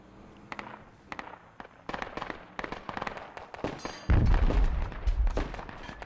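A C4 charge detonates on a weapons cache in the Project Reality military game, a deep booming blast that rumbles loudly after a crackling run of sharp gunfire-like pops.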